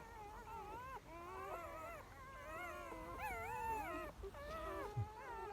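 Young puppies whine and yelp continuously in high, wavering cries while eighteen of them feed from a nursing mother dog, a close, busy chorus without speech.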